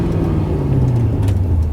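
A Pontiac GTO's engine drones steadily from inside the cabin as the driver shifts into second gear, a loud, even low rumble with a slight drop in pitch.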